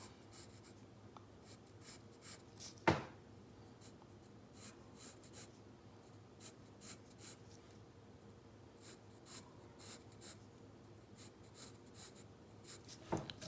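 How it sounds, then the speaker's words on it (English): Pencil strokes on paper while shading darker lines on a one-point perspective drawing of a covered bridge, a steady run of soft scratchy scribbles with one sharp tap near the start, close and alone. "then I just drew a darker line on either side of that"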